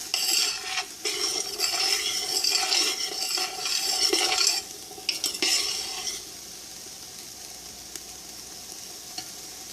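An okra and tomato stew sautés in a pot, with busy sizzling and repeated spoon scrapes and knocks against the pot, then the stirring stops and a quieter simmering hiss carries on alone.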